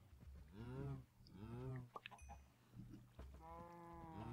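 Cows in the Minecraft Tekkit Lite mod give several faint, short lowing calls in a row, with soft clicks between them.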